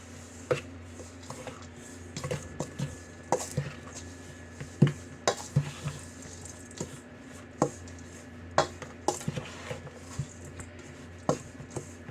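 Peanut butter oatmeal cookie dough with a little milk being mixed in a bowl, making irregular clinks and knocks of a utensil against the bowl with soft squishy scraping between, steady and close with no talking.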